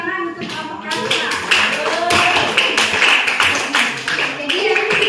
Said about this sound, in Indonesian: Beri tepuk tangan untuk Bapak Pramuka